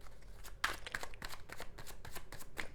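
Tarot cards being shuffled by hand, a steady run of soft papery riffles and flutters repeating through the whole stretch at close range, with no voice over it.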